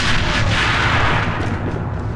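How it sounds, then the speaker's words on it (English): A grenade goes off in the AVA shooter game as a loud, sustained roaring blast with a dense rumble that fills the whole moment without easing. "Grenade!"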